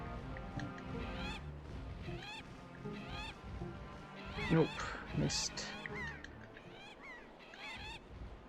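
Squawking, honking seabird calls repeat over a busy game soundtrack in Zelda: The Wind Waker, several chirpy bursts near and loud, with people chatting over them.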